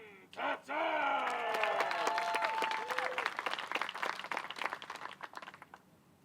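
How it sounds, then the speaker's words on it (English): A crowd applauds steadily after a brief shout at a disc golf tournament in Waco, the clapping building quickly, then thinning out and fading over several seconds. "Let's give her a big round of applause."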